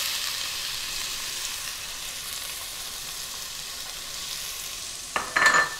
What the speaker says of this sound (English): Oil is hot, go ahead and add onion and garlic.